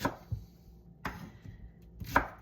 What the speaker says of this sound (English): I'm just gonna kind of slice this little onion booger up